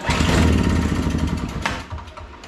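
An old Craftsman two-stroke snow blower engine fires on brake cleaner, roaring loudly and close at first, then sputtering and fading over a couple of seconds.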